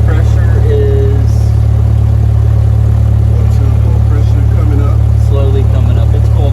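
A small aircraft engine idles steadily at low revs on a cold day while warming up, a loud constant drone with a voice talking over it.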